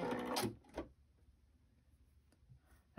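Sewing machine stitching through paper: a short burst of rapid mechanical stitching, a brief second whir, then near silence with faint clicks.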